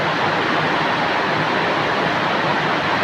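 Floodwater rushes loudly during heavy rain, a close, unbroken roar of churning water that stays constant throughout with no voices.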